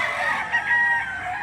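A rooster crows among chickens at a morning chicken market in Lipa City, Batangas, one sustained crow heard close and clear over a brief stretch.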